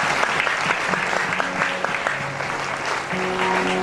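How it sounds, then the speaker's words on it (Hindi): Audience at a Bhagvat Katha religious gathering applauding, a dense, steady clapping that carries on throughout, with faint voices and tones beneath. "हम सब तालियों से उनका स्वागत करें।"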